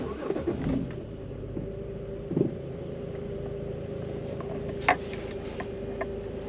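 A BMW 330i E90 with the N53 engine cranks and fires up, a short burst of starter noise followed by a quiet, even idle with light ticking and a couple of faint clicks.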